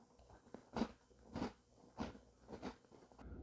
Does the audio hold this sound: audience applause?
no